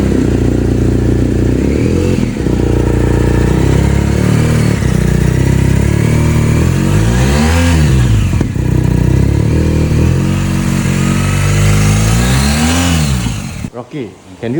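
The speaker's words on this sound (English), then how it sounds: "let us hear the sound of this bike" A BMW GS motorcycle engine idles and revs up several times in rising and falling sweeps, close and loud, with speech faintly mixed in before it cuts off.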